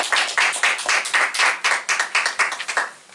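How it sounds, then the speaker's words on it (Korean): A church congregation claps in welcome at a Christian academic forum, with a loud, rhythmic burst of close, steady handclaps. "우리 나오실 때 우리 큰 격려와 우리 환영하는 박수 올리겠습니다"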